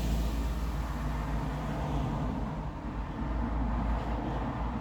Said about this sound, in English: There's a truck. You'll see the truck.